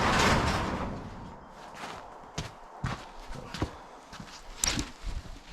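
The frozen door of a 2002 VW Beetle TDI is forced open in a cold garage. A loud scraping rush comes first, followed by a string of sharp clunks and knocks that fade to quieter taps.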